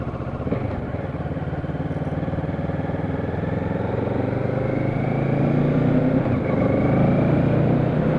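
A Kawasaki Z650 motorcycle engine drones steadily while being ridden on a slick road, its low rumble rising gradually as it pulls, loud and close with no talk.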